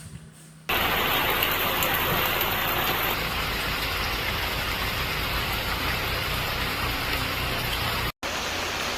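Heavy rain pours near Sholayar Dam in Valparai, a dense, loud, continuous roar of rain hitting surfaces that starts abruptly and holds steady throughout, with a faint engine-like rumble underneath and no voices.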